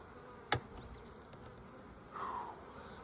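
Honey bees buzzing around an open established hive outdoors, a faint steady hum with one bee zipping close past the microphone and a brief louder buzz a moment later.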